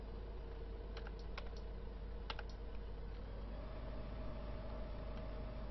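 Computer keyboard keys tapped in a few quick clicks, singly and in a small cluster, faint against a steady engine-like hum from a farming game.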